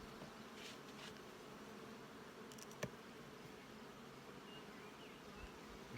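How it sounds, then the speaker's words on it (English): Faint, steady buzzing of honey bees in a nuc hive, a soft continuous drone with a brief louder flick partway through, no speech. "there's bees pretty much in every frame here"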